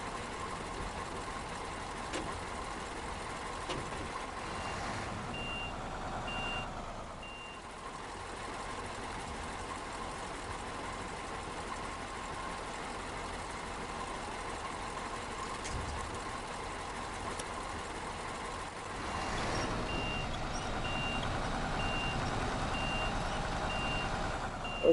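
Truck in SnowRunner backing up with a steady, repeating reverse beeper over a droning engine idle, running continuously with brief dips in the engine level and no voices.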